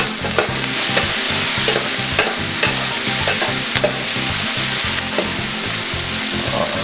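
A lobster paella sizzles loudly in an oiled pan while a spoon stirs and scrapes through it, giving a steady, close frying hiss broken by rhythmic scraping strokes.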